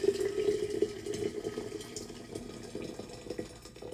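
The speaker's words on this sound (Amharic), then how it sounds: "ትኩስ ውሃ ነው የምንጨምረው።" Hot water pours steadily into a pot in a home kitchen as a weight-loss drink is prepared, a continuous splashing fill with a faint ringing tone, loud at first and then easing.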